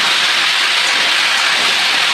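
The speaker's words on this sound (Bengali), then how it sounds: "এবার একসঙ্গে সব ভাজা ভাজা করে নেব" Vegetables including eggplant frying together in fish oil in a pan, a loud, dense, continuous hiss of sizzling oil filling the whole moment with no talk.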